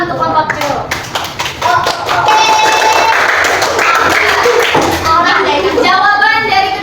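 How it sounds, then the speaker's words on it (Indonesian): Students in a classroom clapping for one group, a burst of hand-clapping from a small crowd that starts scattered and builds to steady applause, with voices talking through it. "Beri tepuk tangan untuk kelompok jeruk"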